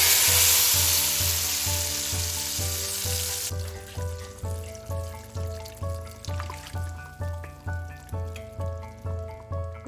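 Tomato puree hits hot oil with bay leaves and cardamom, giving a loud hissing sizzle that slowly fades, overlaid by rhythmic music.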